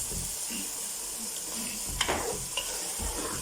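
Chicken and peas pulao is stirred in a pot over a low sizzle, with quiet scraping and a couple of sharp metallic clinks from a spoon against the pot. The sound is faint and close, with no clear talking.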